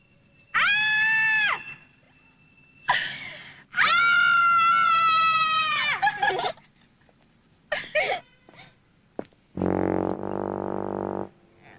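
A series of loud, high-pitched vocal cries, several drawn-out wails with pauses between them, ending in a harsh buzzing blast.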